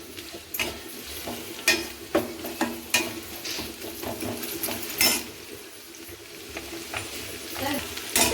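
Boiled potatoes being stirred and mixed in a pan, with a spatula scraping and knocking against the metal in uneven strokes over a faint sizzle of frying, close and fairly loud, no talking.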